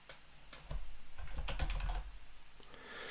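Soft, quick clicking from a computer keyboard as a short search word is typed, a brief run of close, faint keystrokes with no voice.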